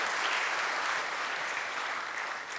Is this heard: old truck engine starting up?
no